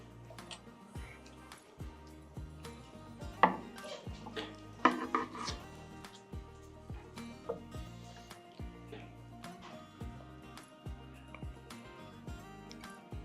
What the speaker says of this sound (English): after a good rest, let's get this out and slice it up